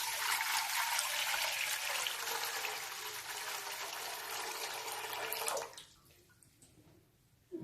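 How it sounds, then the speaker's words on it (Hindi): Water pours steadily into a degchi cooking pot, a loud close rushing splash lasting several seconds before cutting off abruptly into near silence, with no voices. "और इस देगची के अंदर मैं डाल रहा हूं पानी"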